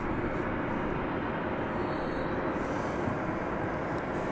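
A UPS Boeing 757 jet rumbles steadily at DFW Airport at night, a constant distant engine roar with no talk.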